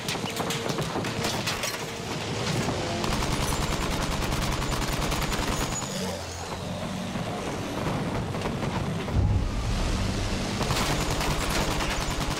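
Battlefield 1 machine gun fire over Cape Helles during fighter plane play: sustained rapid bursts with a dense rattling rhythm over a constant engine drone, loud throughout.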